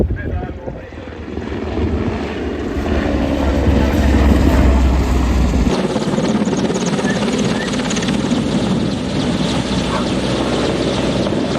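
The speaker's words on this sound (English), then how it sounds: "The first is the starting gun crew being dropped in by helicopter." A helicopter dropping in the starting gun crew at the Ten Tors event passes close with a loud, throbbing rotor drone that swells and then shifts in tone as it moves. People talk faintly beneath the noise.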